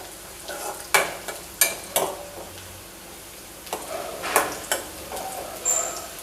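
Vermicelli pulao sautés in a pan, with a soft sizzle under a series of sharp spoon scrapes and clinks against the metal, coming in irregular bursts close by.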